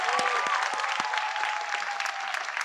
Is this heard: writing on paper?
no